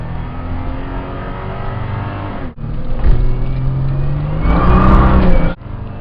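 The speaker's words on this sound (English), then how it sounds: "That tire spin, holy shit. This thing has a lot of power for how old it is." An old Chevy with an LS engine, driven in the Forza 6 racing game, revs hard while its tires spin. The engine note roars and climbs with a brief cut in the middle and no one talking.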